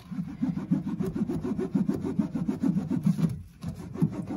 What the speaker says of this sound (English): you put it on a surface and you rub the soap back and forth